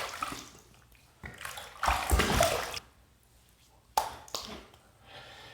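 Safety razor (Vikings Blade Chieftain) being rinsed under a running tap between shaving passes, giving bursts of splashing water that rise and fall in several close, moderately loud surges.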